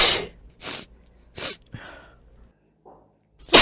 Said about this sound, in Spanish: El estornudo.